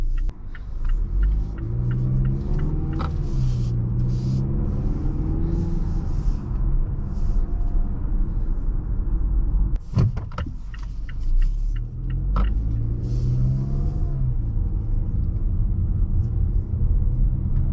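The 2.5 turbo engine of a 2022 Mazda CX-5 rumbles steadily from inside the cabin while driving, with a continuous low drone and brief clicks and bumps along the way.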